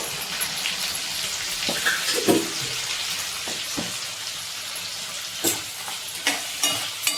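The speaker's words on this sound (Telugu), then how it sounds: "ఒకసారి అంతా తిప్పుకుందామండి" Curry with curry leaves and rock salt sizzling in a pan as it is stirred, a steady close frying hiss broken by scraping and spoon clatters, with no talk.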